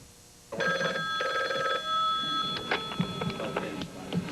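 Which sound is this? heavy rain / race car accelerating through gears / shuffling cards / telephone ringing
telephone ringing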